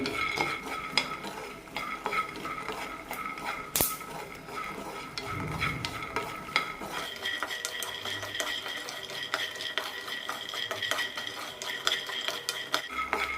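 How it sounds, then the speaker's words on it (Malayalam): Half a cup of peanuts dry-roasting in a pan give a soft, steady scrape and rattle as a spoon stirs them, with light clinks of metal and faint sizzling throughout at low volume. "അരക്കപ്പ് നിലക്കടല കൂടി വറുത്തെടുക്കാം"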